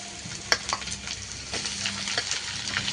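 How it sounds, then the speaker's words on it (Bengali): Potatoes frying with onions in a pan for a Bengali sponge gourd and dried fish curry, a steady close sizzle with a few sharp crackles and light stirring scrapes throughout. "পেঁয়াজের মধ্যে আলু দিয়ে দিলাম। আলুটা একটু লাল লাল করে ভেজে নেব।"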